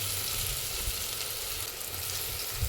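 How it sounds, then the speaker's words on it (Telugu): Spices sizzle steadily in a pan for an Andhra-style okra tamarind curry, a continuous close frying crackle with faint stirring and no talk. "కలుపుకొని గోల్డెన్ కలర్కి వచ్చే వరకు కూడా బాగా ఫ్రై అవనివ్వాలి"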